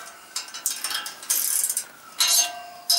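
Ring spanner ratcheting while tightening a tapered roller bearing, several quick bursts of close, crisp metallic clicking separated by short pauses.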